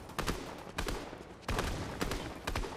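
Gunshots in Fortnite crack out in quick clustered bursts, a few sharp volleys spaced roughly half a second apart at moderate distance, with no speech over them.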